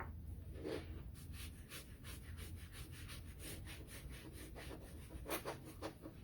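Wax being rubbed by hand onto a small wooden star decoration, quiet repeated scrubbing strokes in a steady back-and-forth rhythm, close up with no talking.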